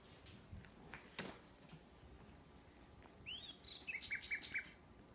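Chirping bird call played from a children's sound book, a short faint run of high tweets near the end after a few quiet taps.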